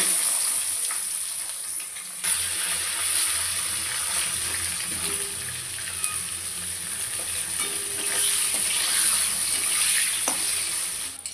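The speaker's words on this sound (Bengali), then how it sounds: "প্রথমে আমি বেগুনগুলোকে আগে ভেজে নেব।" Steady, bright sizzling of eggplant frying in hot oil continues throughout, close by, with occasional soft clinks and stirring sounds and no talking.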